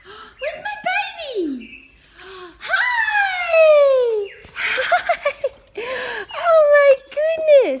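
An excited puppy whimpers and yelps in high, sliding cries as its owner comes home, loud and close, mixed with a person's excited high-pitched talking.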